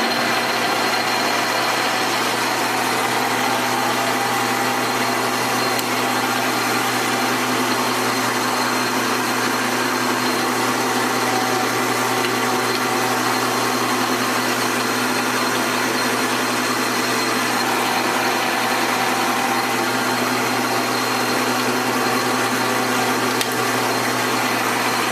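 A rewired South Bend 13 metal lathe's electric motor runs continuously with an even, unchanging hum and vibration, close by and steady, with no talking.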